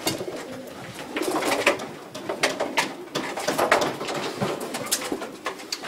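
Racing pigeons cooing inside a pigeon loft, soft repeated coos and calls from several birds close by, with light fluttering and shuffling around them and no talk.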